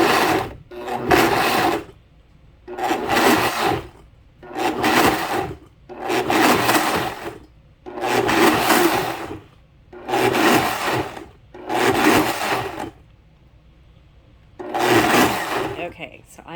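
A blender pulses tomatillo salsa verde with cilantro, garlic and hatch green chili in eight loud, evenly spaced bursts, each about a second long, separated by short pauses.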